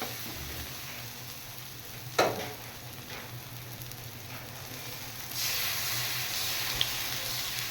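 Cashew and raisin paste frying with spices in oil for a katla fish curry, a loud, continuous close sizzle that swells briefly with a few stirring scrapes and a sharper hiss near the end, no voices.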